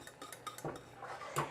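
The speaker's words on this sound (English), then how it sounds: "flour mixture into the milk and whisk it" A whisk clinks and scrapes against a bowl while flour mixture is stirred into milk for a quick cheese sauce, a quiet series of light metallic taps and swishes at close range.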